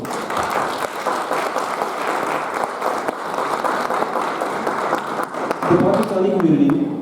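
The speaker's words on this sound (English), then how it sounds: "a round of applause for that older generation as well" Sustained applause from an audience at a Canada-Pakistan Association 50th anniversary celebration, dense and steady across the clip, with a voice emerging near the end.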